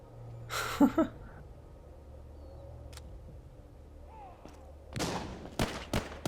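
Pistol shots in the zombie video game Walking Zombie 2, a few sharp separated cracks, one early, one mid-clip and a quick cluster near the end, over a quiet low game hum.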